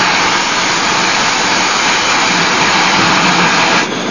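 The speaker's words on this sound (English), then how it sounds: "But the sound of the steam piston is all around at the Antique Engine Museum in Vista, California, near San Diego," Working antique steam engines at an engine museum in Vista, California: a loud, steady broadband roar and hiss fills the whole stretch, close and unbroken, easing slightly right at the end, with no talk.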